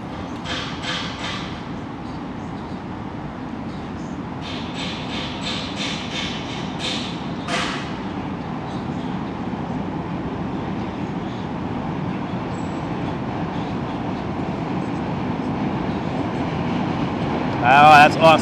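A New York City train rolls past with a heavy, continuous metallic rumble and faint rhythmic clatter, loud and close throughout, with a few brief sharp squeals and bangs near the end.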